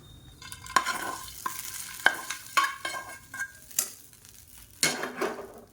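A spoon stirs a hot ghee tempering into venpongal in a pot, giving irregular close scrapes and clinks against the metal over a soft, intermittent sizzle, with no talking.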